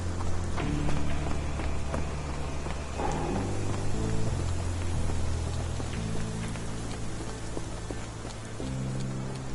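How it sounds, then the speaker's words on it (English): Steady rain falls across a dreary street scene in the video game Sherlock Holmes: The Awakened, a dense, even hiss running throughout, with low sustained musical tones and occasional faint knocks underneath. "This dreary rain is making a miserable day even worse."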